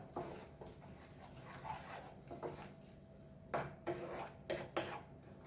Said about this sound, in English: So now let's mix this